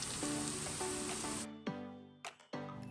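Spam sizzles and crackles steadily in a frying pan, a close hissing spatter that cuts out abruptly partway and returns in short bursts, with a low hum between.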